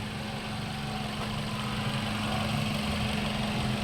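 A Toyota Altis car engine idles close by after starting, a constant low rumble holding even throughout with no talking.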